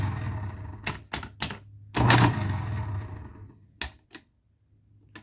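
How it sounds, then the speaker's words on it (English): A Marchant mechanical calculator, one of the old-line models, whirs as its motor starts with the clutch engaged, marked by a run of sharp mechanical clacks, a louder grinding burst, then a few isolated clicks before falling quiet. "when you push the button, it will start the motor and engage the clutch"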